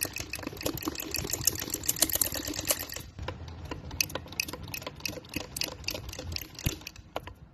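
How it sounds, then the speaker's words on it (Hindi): A sewing machine stitches the hem of a pair of trousers with fast, steady needle clatter, close and continuous. The motor briefly slows around the midpoint, then the stitching carries on. "ऐसे इसको ऐसे सिलाई लगाते जाएंगे।"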